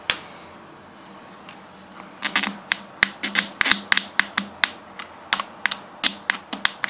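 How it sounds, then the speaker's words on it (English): A key scratching an unprotected iPhone screen and a plastic screen protector gives a quick series of sharp, close scratchy clicks and rubs at an irregular rhythm, with no talking. "we're scratching the crap out of the screen protector. Not only that, we will have scratched the surface of the phone"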